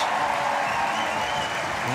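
A crowd at the European Championships Munich 2022 sport climbing event applauds and cheers a climber in steady, dense clapping that fills the whole moment without a break.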